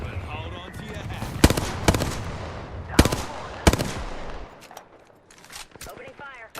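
Gunfire from a video game cracks out in four loud, sharp single shots spaced about a second apart, over a bed of game noise and spoken voice lines that thins toward the end.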